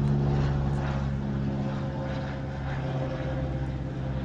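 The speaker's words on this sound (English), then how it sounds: "Waiting for the plane to cross." A propeller airplane passes overhead above a garden with tall Cape honeysuckle, a loud steady engine drone that fills the whole stretch and fades only slightly, with no voices.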